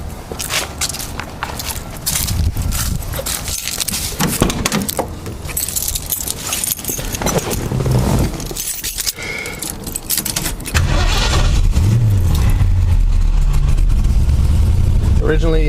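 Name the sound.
keys jangling, car engine starting and idling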